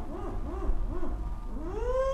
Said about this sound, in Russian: Тут филин заухал, захохотал